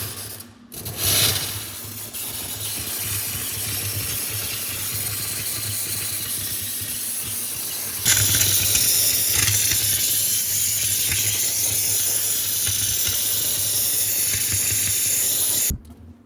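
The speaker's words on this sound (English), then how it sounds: "I think the steamer is one of the safest and fastest ways to thaw out frozen evaporator coils on fridges." A steamer blasts a continuous loud hiss of steam onto the frozen evaporator coils of a fridge that is not cooling, running steadily with a brighter, harsher stretch midway before it abruptly stops.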